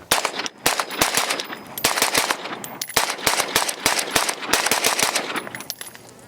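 An HK416 rifle fires a full magazine in rapid, loud semi-automatic shots, dozens of sharp cracks in quick uneven bursts across six seconds, close and unbroken, with no talking.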